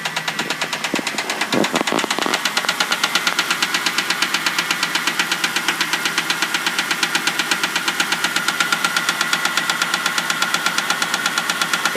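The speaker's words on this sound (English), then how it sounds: "So it's got a real loud tick." A running 2000 Ford Crown Victoria engine with a loud, rapid, steady ticking that keeps an even rhythm throughout, close up, with no voices.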